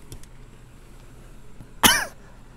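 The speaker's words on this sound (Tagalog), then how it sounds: "Ubo pa rin ako." A single sharp, harsh cough from someone sick for several days, loud and close after a quiet stretch, with a faint throat sound before it.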